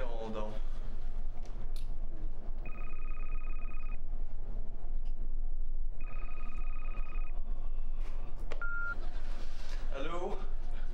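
A telephone rings in two long electronic trill bursts separated by a pause, with a short beep afterward, sounding over a steady background hum and ongoing talk.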